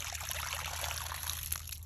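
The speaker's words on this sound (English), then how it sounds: "get a pan, you just drain the water like that" Water drains out of a hose from an LG washer that won't drain and splashes into a pan, a close, continuous trickling pour over a low background hum.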